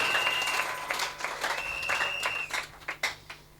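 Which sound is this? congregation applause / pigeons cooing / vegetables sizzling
congregation applause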